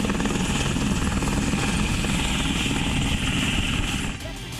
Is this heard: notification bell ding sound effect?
no